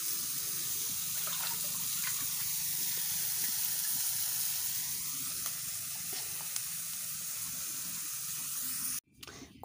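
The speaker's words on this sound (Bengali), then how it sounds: "আর এই তো একটু কালো জিরে দিয়ে দিলাম" Black cumin seeds sizzle in hot oil in a wok, a steady, close hissing crackle that runs almost unbroken for about nine seconds before stopping abruptly.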